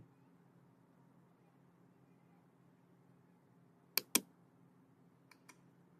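A computer keyboard gives a few quick, crisp keystrokes in a quiet room: two taps close together, then two fainter ones a moment later, over a low background hum.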